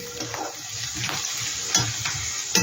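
Pasta sizzling and frying in a pan over a very low gas flame, a steady soft crackle with occasional sharp stirring scrapes, close and continuous with no talking.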